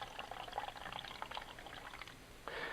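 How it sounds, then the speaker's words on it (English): Water pouring into a small cup or jar, faint and close, with a soft continuous trickle and a brief louder splash near the end. "the first thing I want to do is fill up this jar, this little cup,"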